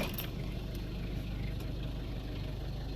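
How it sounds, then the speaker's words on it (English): A 1993 Toyota Hiace 4x4 diesel van idles just after start-up, a steady, quiet low rumble with an even beat that holds unchanged throughout. "As you can see, it's a quiet engine."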